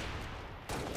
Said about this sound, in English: Nice shot there.